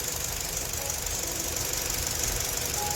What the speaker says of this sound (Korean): 엔진 소리 들어볼까요?